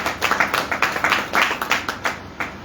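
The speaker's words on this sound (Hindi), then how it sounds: "जोरदार ताली पांडे जी के लिए बताओ।" An audience claps for Pandey ji at an indoor program, a loud, steady burst of many hands applauding at close range with no talking.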